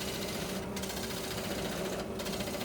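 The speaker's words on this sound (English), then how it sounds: "Negative rake scraper to clean up any final little pieces, any little tear out." A negative rake scraper hums steadily against spinning spalted maple on a wood lathe. It gives a constant, fairly quiet buzz with a whirring mechanical drone underneath and brief dips where the tool lifts off.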